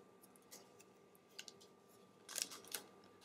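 Scissors snip through gift basket material, a few faint, quick cuts scattered through the quiet before a louder cluster of snips near the end.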